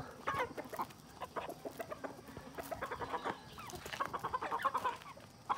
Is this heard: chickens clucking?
yes